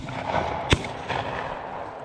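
A single sharp shotgun report during a quail hunt at a preserve, moderately distant and brief, followed by a softer echo or second distant crack in an otherwise quiet outdoor setting.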